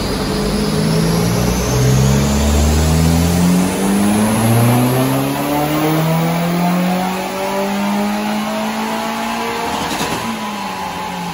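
A modified Mitsubishi Colt CZT with a Stage 2 remap revs at full throttle, its engine note climbing and holding in loud sweeping pulls with a close, raspy exhaust, accelerating throughout without talk.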